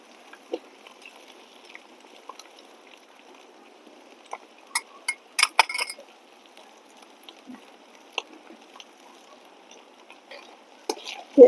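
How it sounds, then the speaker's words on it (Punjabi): Ginger being stir-fried in a pan for a carrot and cauliflower pickle: a soft, steady low sizzle with scattered scraping and clinking strokes, busiest around the middle and at the end, with no talk. "ਅਦਰਕ ਨੂੰ ਵੀ ਆਪਾਂ ਚੰਗੀ ਤਰ੍ਹਾਂ ਭੁੰਨਣਾ"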